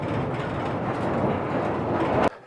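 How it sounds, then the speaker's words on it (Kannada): A mine train pulls in underground in the Bochnia salt mine in Poland, a loud, continuous rumble with a rattling of wheels that cuts off abruptly near the end. "ಬಂತು ನೋಡಿ, ಬಂತು ಟ್ರೈನ್ ಬಂತು"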